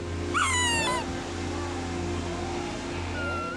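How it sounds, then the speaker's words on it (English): Young sea lion pups in a crowded colony in the Andes, one high wavering squeal rising above a steady low background rumble, then fainter bleats trailing off behind it. "When they're very young, sea lion pups can only bleat or squeal."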